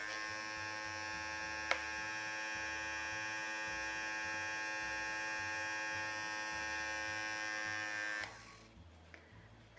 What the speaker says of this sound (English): I'm going to pull it out and spin it dry